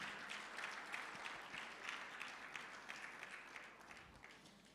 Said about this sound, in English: Please, a round of applause for Barrister Tasha.